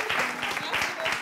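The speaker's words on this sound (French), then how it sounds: "On applaudit." A studio audience at a French entertainment show applauds a woman stepping up onto the stage, a short burst of steady, fairly loud clapping with voices mixed in.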